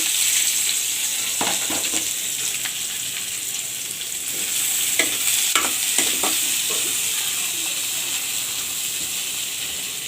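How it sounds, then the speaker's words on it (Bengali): Garlic and onions sizzle steadily in oil in a pan while a utensil stirs and scrapes now and then, with a few sharp clicks and crackles. "তারপর এখানে আমি রসুন পেঁয়াজগুলো ভেজে নিচ্ছি"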